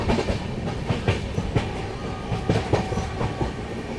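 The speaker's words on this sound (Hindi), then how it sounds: "देख सकते हैं ट्रेन हमारी जो है लक्ष्मीबाई नगर रेलवे स्टेशन को स्किप कर रही है।" The Indore to Kota Ranthambhore Express rolls along the rails past a station without stopping, its wheels beating a loud rhythmic clickety-clack over a continuous rumble.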